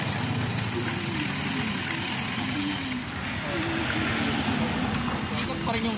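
A Motorstar 150 motorcycle engine idles low after its idle is turned down, a steady close chugging putter with a faint flutter, held at an even level throughout.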